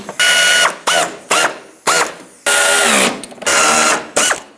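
A ratchet drives out the 7 mm headlight screws on a 2006-2011 Chevrolet HHR. Loud, close whirring and clicking comes in about seven quick bursts, some short and some longer, with brief gaps between them.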